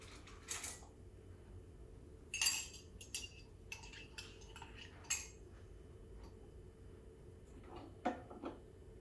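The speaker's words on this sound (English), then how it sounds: "I'm going to grab a spoon just to mix up my sugar." A spoon clinks and scrapes while mixing sugar beside a Sunbeam EM6910 espresso machine, a few scattered light taps spaced over several seconds in a quiet room.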